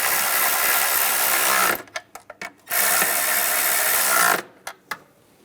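A ratchet or hand tool working the bracket nuts on a 2011-2018 RAM 1500 3.6L V6 engine during a spark plug job, with two sustained rasping runs, each followed by a few sharp clicks, close up and with no talking.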